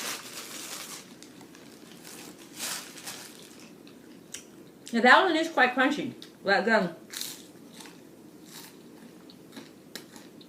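Crunchy chewing of a Corn Thins corn cake, several close crisp bites clustered in the middle, with a brief voice speaking before and around them in a quiet room.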